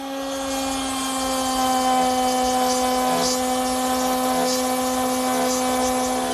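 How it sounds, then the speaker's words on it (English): A router with a spiral bit plunges through wood and is run along a fence, giving a steady loud high whine with a few sharper bursts as it cuts, with no talk. "spiral bit, which is great for making a plunge cut all the way through the wood."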